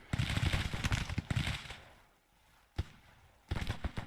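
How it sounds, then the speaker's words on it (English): Artillery fire in the Civil War strategy game Grand Tactician: a rolling series of booming cannon reports in two dense bursts, a lone sharp blast, then another volley, moderately loud with no talk over them. "And my own artillery. Firing on them right there."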